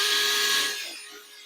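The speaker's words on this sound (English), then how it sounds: "But we'll take the drill brush to it." A drill-mounted brush whirs against a car's carpet while scrubbing out pet hair, a close, steady buzzing that fades away after about a second.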